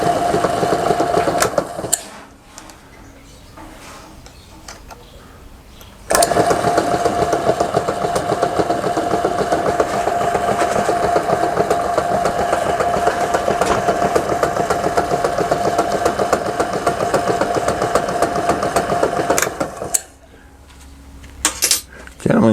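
A vintage Kennedy Hex-A-Cut power hacksaw runs on its first use with a steady mechanical drone, starting after a short quiet gap and running for about fourteen seconds before dropping away.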